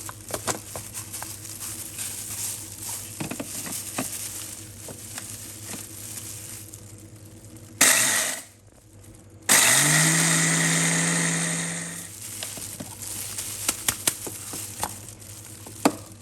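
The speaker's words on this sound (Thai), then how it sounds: "เราจะใส่น้ำตาลลงไปปั่นด้วยกันเลย" A blender grinding fried shallots with sugar: after faint kitchen background and a brief burst, the motor kicks in loud and steady with a whining drone for a couple of seconds before cutting out, followed by light clatter.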